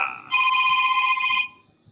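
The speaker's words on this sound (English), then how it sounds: "I haven't heard a house phone in a while." A house phone rings with one sustained electronic trill of about a second, bright and fairly close, then cuts off into quiet room tone.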